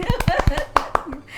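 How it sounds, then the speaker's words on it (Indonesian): A few sharp hand claps close to the microphone at a madrasah student gathering, quick irregular slaps followed by two louder claps, with chuckling and talk around them. "ini tepuk tangan saya ya"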